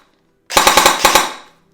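Stock AEG Scorpion airsoft gun firing a short burst of about six rapid, evenly spaced electric shots, loud and close, with no voices over it.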